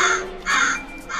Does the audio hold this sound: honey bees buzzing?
no